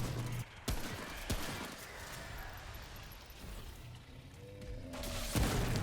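Gunfire in the video game Remnant: From the Ashes, a couple of sharp shots at the start and end over a steady dense game soundscape.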